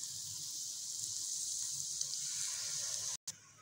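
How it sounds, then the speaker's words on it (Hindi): Water poured into sizzling masala in a pan while cooking fish curry, a steady hissing gush lasting about three seconds before cutting off abruptly, close and fairly quiet with no talk. "अब मैं इसके अंदर पानी डाल रही हूँ, तकरीबन हाफ़ कप।"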